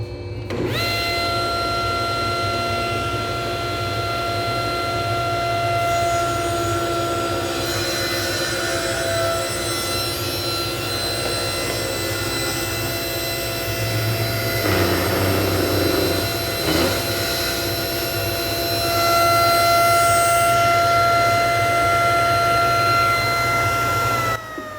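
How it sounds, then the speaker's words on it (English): A saw ripping a piece of 2-inch walnut, with a loud steady whine and a continuous hum that carries a bogged-down cutting roar midway, then spins on evenly toward the end. "I've got it set up to do a little light ripping job on a piece of 2-inch walnut"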